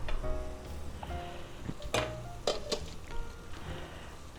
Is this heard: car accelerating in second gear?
no